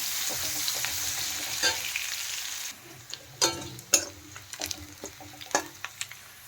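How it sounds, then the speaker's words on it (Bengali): Chopped onion lightly frying in a pan for a traditional Bengali doi rui (fish in yogurt) dish, with a steady soft sizzle and occasional clinks and scrapes of stirring. "পেঁয়াজটা একটু হালকা ভেজে নেব।"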